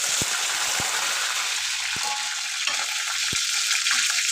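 Mustard seeds splutter and curry leaves fry in hot oil for a ginger curry, a loud steady sizzle broken by several sharp low pops and crackles, close up with no talking.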